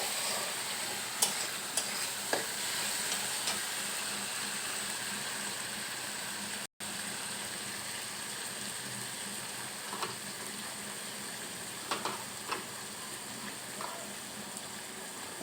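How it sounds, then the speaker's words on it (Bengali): Spices frying in oil in a pan while being stirred, a quiet, even hiss with occasional light scrapes and taps, briefly cut out once in the middle. "এবারে এটাকে ভালো করে নাড়তে হবে।"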